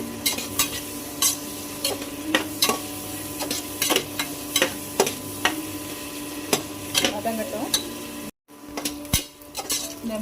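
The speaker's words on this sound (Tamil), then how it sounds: "லைட்டாக ப்ரௌனாக இருக்கிற வரைக்கும் நல்லா வதக்குங்க" Onions sautéing for a pressure-cooker dum chicken biryani, with frequent sharp clinks of a ladle stirring against the pan over a steady low sizzle; close and moderately loud, with no talking.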